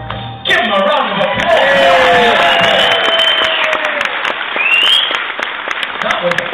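A crowd bursts into loud, sustained applause with scattered cheers and whoops, filling the space for several seconds.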